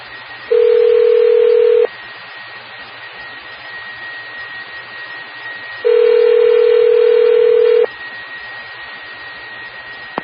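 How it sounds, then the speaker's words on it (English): Auto patch telephone dialing over an amateur radio repeater: two sustained dial-tone bursts, one short and one about two seconds long, ring out loud over a hissy radio channel with a faint steady carrier hum. "Auto patch dialing."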